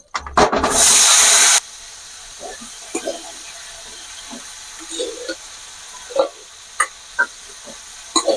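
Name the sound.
crabs frying in hot oil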